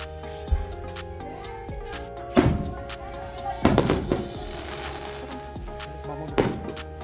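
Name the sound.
fireworks exploding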